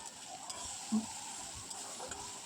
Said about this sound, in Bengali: আদা বাটা তো এটা ভালো করে মানে নেড়ে চেড়ে কষাতে থাকবো